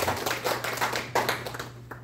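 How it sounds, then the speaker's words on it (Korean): A church congregation at a joint worship service claps hands in a brief burst of uneven, moderately close claps over a low steady hum. "일단 박수 한번 치워주셨습니다"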